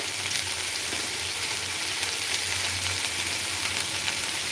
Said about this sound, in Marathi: कांदे जोपर्यंत भाजले जातात